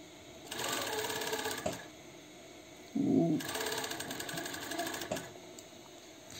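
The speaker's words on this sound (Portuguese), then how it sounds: "Deixa seu elástico. Deixa sua máquina puxar." A sewing machine stitches elastic for a bra cup lining, two steady buzzing runs of rapid needle strokes with a pause between them, close and clear, and a short soft voice sound in the gap.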